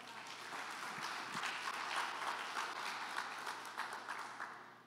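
A church congregation applauding during a Sunday morning family worship service, a sustained, slightly distant patter of many hands that swells and then eases off toward the end.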